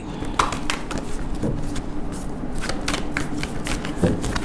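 Angel tarot cards being shuffled up close, a run of quick riffling flicks and soft slaps in an uneven rhythm.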